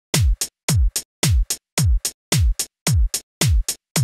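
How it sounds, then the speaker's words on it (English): A simple four-on-the-floor drum pattern programmed in LMMS: a punchy kick lands on every beat with a short crisp hit tucked after each, eight even repetitions, loud and dry with nothing else playing. "The super simple four on the floor beat"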